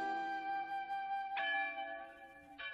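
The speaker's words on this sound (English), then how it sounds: "But why are church bells ringing on Monday?" Church bells ring in a cartoon scene, a steady sustained peal with two fresh strikes swelling in partway through and near the end, heard alone without talk.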